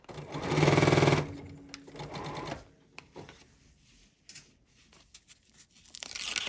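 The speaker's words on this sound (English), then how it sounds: "this paper is just coming loose and it's weird. So I'm starting to tear it as I go." Paper being torn away from a quilt block, a loud close ripping and crinkling burst in the first second, followed by quieter scattered tearing and rustling.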